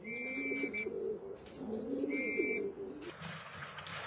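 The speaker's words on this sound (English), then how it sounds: "Tai lowers the flag and whistles for the pigeons to land" Racing pigeons coo softly at their loft in Taiwan after a two-hour training flight, with repeated low, rolling calls and a faint high whistle, fairly close and steady.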